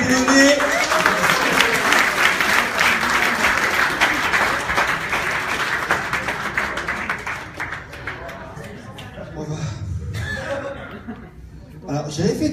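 Loud audience applause at the opening ceremony of a horror film festival in Boulogne, a full burst of clapping that thins out, with laughter, whooping and a voice speaking as it dies down.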